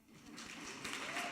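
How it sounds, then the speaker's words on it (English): A commencement ceremony audience breaks into applause, starting faint and swelling louder toward the end, a broad wash of clapping across a large hall. "That's an applause line."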